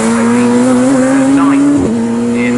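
Radical SR1 race car at Snetterton crossing the start-finish line, a loud, steady, high-revving engine drone with a brief pitch dip as it passes close.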